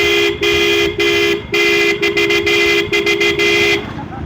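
Loud repeated car horn honks, a run of long toots followed by several short quick bursts, ringing out near and clear over faint background noise with no talking.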